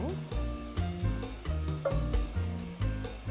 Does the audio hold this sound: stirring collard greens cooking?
yes